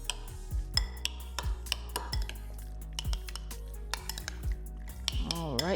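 A spoon stirring a vegan mayo mixture in a bowl, with repeated clinks and knocks of utensil on the dish and soft scraping between them; a brief voice is heard near the end.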